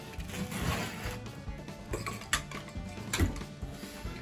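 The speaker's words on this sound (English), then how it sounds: "I'll use the wall trimmer for this." Carpet wall trimmer cutting a bedroom carpet along the wall, a continuous close grinding and crunching with uneven mechanical clicks and a few sharper knocks as it is pushed along, no talk.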